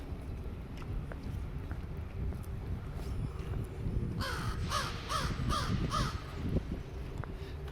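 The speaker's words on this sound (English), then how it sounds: "I hear a crow." Out in downtown Halifax, a crow gives a series of about five harsh caws in a row, fairly close, over wind and street noise.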